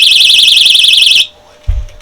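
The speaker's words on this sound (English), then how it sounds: "I use this as a little personal alarm" A small personal alarm clipped to a hiking backpack strap shrieks loudly with a rapidly warbling high tone for over a second, then cuts off abruptly, followed by a brief low thump.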